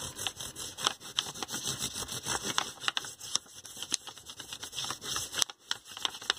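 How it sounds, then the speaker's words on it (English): A crayon rubbed on its side across a paper plate, coloring it brown, makes quiet, close, steady scratchy strokes in a repeating rhythm. "I'm just going to use the side of my crayon. I'm going to color it brown."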